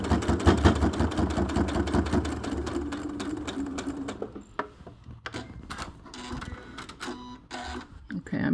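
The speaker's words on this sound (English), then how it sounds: "I'm going to continue sewing" A sewing machine stitches a fabric face mask in rapid mechanical bursts, a fast rattling run followed by shorter stop-and-start spurts as the work is adjusted.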